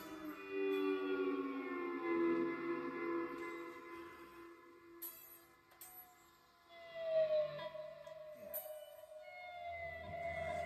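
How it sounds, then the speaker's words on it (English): An electric guitar played with a slide and fuzz produces long gliding, wailing tones that swoop and bend like whale calls, sustained and rising and falling with brief scratchy noises between phrases. "using a slide in places and making like whale sounds"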